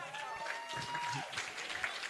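Applause from the audience at a workplace-training graduation ceremony as a certificate recipient is called up: a brief, dense burst of clapping at steady loudness, with a sustained high tone and crowd voices mixed in.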